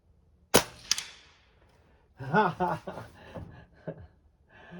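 A Daisy 1101S air pistol fires one sharp, close crack at cans, followed by a fainter second snap, then someone speaks and chuckles briefly.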